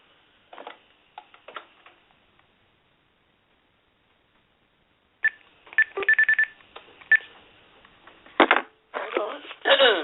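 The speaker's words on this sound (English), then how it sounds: "That's the phone." An electronic telephone rings indoors in bursts of shrill, beeping tones after a long quiet gap. The rings grow denser and louder toward the end.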